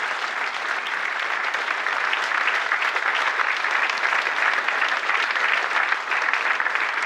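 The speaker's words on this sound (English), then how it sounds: "Let's have a big round of applause for Martyn Waghorn and Conor Hourihane." Sustained, loud applause from an audience at a football club fans forum evening, steady clapping filling the room without a break for several seconds.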